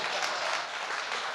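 An audience at a District 3 community meeting claps in a brief, steady burst of applause, moderately loud and dense with no clear voices.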